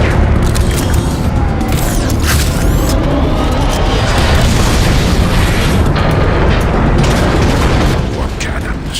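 Warp cannon fire in the video game Transformers: Fall of Cybertron, Megatron's barrage aimed at the Ark, rumbles as a loud, dense and continuous string of heavy blasts with no break.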